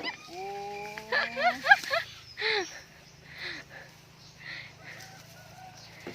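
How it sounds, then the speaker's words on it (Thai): Chickens being herded into a pen give a few clear rising squawks and clucks near the start, followed by scattered softer calls, with some voices and movement in the background. "ไล่ไก่เร็วมิ่งไล่ไก่เร็วเร็ว"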